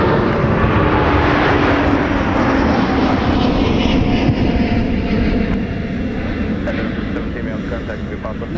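A Delta Airbus A330neo jet roars steadily as it departs from runway 17 at MSP airport in winter, a loud broadband engine rumble heard from a nearby viewing area that eases slightly toward the end.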